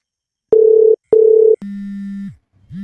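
Telephone tones sound while placing a call: two short identical beeps, then a longer steady lower tone that cuts off, followed by a brief fainter tone, all clear and alone with no talk.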